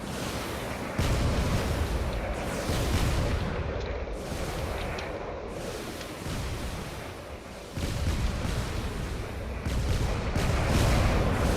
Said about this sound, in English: there's a lot of cannon fire coming from this one battleship